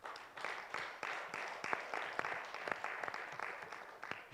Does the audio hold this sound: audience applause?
yes